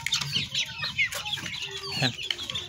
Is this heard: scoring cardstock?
no